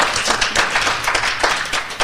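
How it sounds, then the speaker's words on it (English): Short burst of applause for guests at the close of a roundtable discussion, a handful of hands clapping in an uneven, fairly close rhythm. "if we could get a round of applause for our guests"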